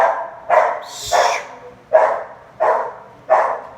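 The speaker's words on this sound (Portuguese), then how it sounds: "Cachorro atrapalhando." A dog barks six times in a steady rhythm, close and fairly loud, sharp woofs spaced about half a second apart with no talking over them.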